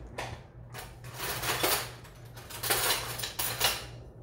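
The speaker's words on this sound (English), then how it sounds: "Let me get a spoon." Cutlery clinking and rattling as a spoon is fetched from a drawer in a kitchen, a few bursts of metallic jangling over a low steady hum, close and moderately quiet, no talking.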